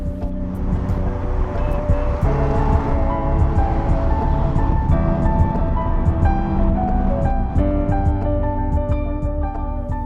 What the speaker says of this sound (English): This is the first ever fuel cell car to be mass produced.